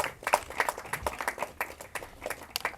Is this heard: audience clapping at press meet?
yes